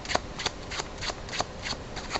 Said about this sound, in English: Shuffle off until the king is back on top, cut out the jokes, drop at the injoke, injoke again.